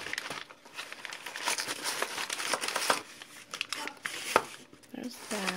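Close, busy crinkling and tearing of packaging as a package of facial cleansing grains is unwrapped, with rustling plastic and paper over a few seconds and a voice speaking faintly underneath.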